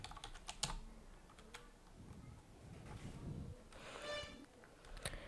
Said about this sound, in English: click on this search box and type here options